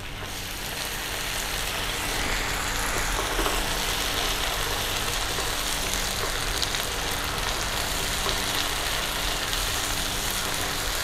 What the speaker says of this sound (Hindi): अब इसमें ऐड करेंगे टमाटर